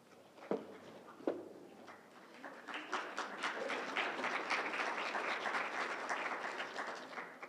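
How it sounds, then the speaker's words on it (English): Hesitant applause at a literary reading and launch party, starting with two isolated faint claps before the audience joins in, swelling into a soft, sustained patter of many hands that continues to the end. "That was a precious little, hesitant, oh, are we applauding this time around, or are we not?"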